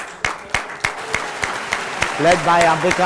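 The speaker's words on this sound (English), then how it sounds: "I think we need to give a big round of applause to this team of Darbar, led by Ambika," Scattered clapping at a Rotary Darbar gathering, a few distinct claps spaced out in a thin rhythm, then a voice talking over the end.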